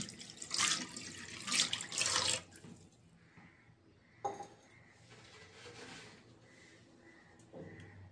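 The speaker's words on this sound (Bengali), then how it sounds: "ডিমগুলো সিদ্ধ করার জন্য এখানে দিয়ে দিচ্ছি পানি।" Tap water splashes in loud bursts into a pot as it is filled for boiling two duck eggs, then fades to quieter trickles and small drips.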